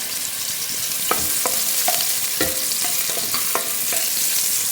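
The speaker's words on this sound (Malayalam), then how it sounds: "പനീർ ഇതിലേക്ക് ഇട്ടിട്ട് ഒന്ന് ഇളക്കി കൊടുക്കാം" Paneer and vegetables are stirred in a hot pan for pulao, with a string of crisp spatula scrapes and knocks over a steady frying sizzle and no voices.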